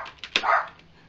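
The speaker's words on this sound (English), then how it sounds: "And there goes my dog." A pet dog gives a short, sharp bark close by indoors, a single brief burst rising out of a quiet room and fading fast.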